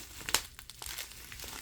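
Packaging on a silver bullion order being crinkled and pulled at by hand, a sharp crackling burst early on followed by softer scattered crinkles, close and fairly quiet.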